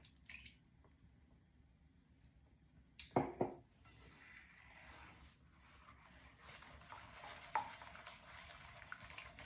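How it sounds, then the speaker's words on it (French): Orange blossom water stirred into oil and egg in a bowl, a soft wet mixing with a burst of utensil clatter against the bowl partway through, then quieter swishing. "qu'on mélange bien pour intégrer la fleur d'oranger dans l'huile et l'œuf."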